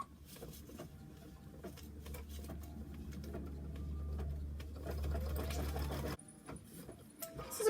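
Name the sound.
embroidery sewing machine stitching tack-down on Minky fabric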